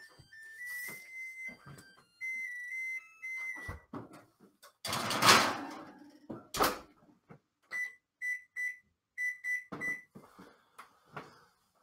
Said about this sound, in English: it's going to tell me the oven's ready in just a moment.